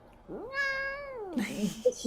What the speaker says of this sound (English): Our oldest cat also hates being in the same room as all the other cats.